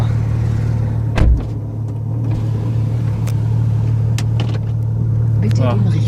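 A Porsche 911 GT3 RS of the 991 generation fitted with an Akrapovic exhaust idles with a deep, steady rumble, with a short throttle blip near the start and background voices.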